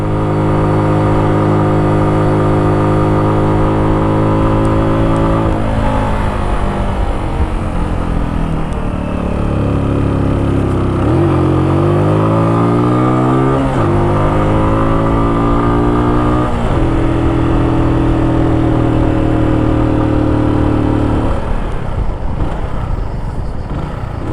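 A Honda Dio scooter fitted with a Superlight 125 engine roars loud and close while climbing a slope, its engine pitch dropping and rising repeatedly as it downshifts through gears without letting off the throttle.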